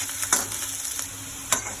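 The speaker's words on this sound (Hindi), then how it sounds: "यहाँ पे मैं अब करछी चलाऊंगी इसको, थोड़ा हाई फ्लेम पे कर लिया है मैंने," A ladle stirs vegetables roasting in a pan over a high flame, with a steady sizzle and a few sharp scrapes against the metal, heard up close with no talking.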